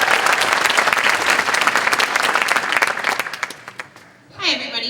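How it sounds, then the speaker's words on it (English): A pageant audience applauds loudly in a hall, dense continuous clapping that thins out and fades near the end before a voice begins speaking. "Could we all give a big round of applause to that?"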